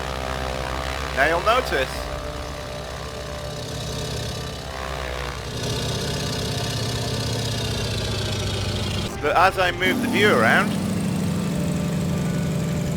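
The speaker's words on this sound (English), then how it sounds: "I got the kind of buzzsaw sound when I was at the side of the aeroplane." Steady droning buzz of a propeller aircraft engine in a flight simulator game, running continuously throughout while someone talks over it at intervals; the tone shifts slightly as the exterior view moves around the aeroplane.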